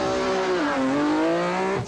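Rally car leaving the start line of the Nissan Dealers 400, a loud engine revving up and holding a rising, steady pitch, close by, then dropping off at the end.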